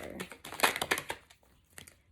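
A deck of cards is shuffled close up, giving a quick burst of papery riffling and crinkling that fades, then a couple of faint soft flicks.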